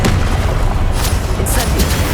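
Confringo fire-blast spell exploding in Hogwarts Legacy, a loud, dense booming blast with rumbling low end and crackling bursts that stays sustained across the whole moment.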